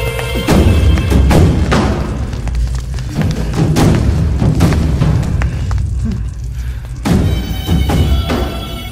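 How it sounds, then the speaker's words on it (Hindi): A huge explosion boom from a Bhojpuri action film, with heavy low thuds and rumbling blasts rolling on loudly for the full stretch, punctuated by sharp impacts, with no talking. "इतना बड़ा धमाका"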